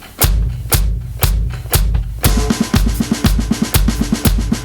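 Drum kit beat played alone and close: a few loud separate thuds and crashes open it, then a steady groove follows with bass drum hits on all four beats under even, driving hi-hat strokes.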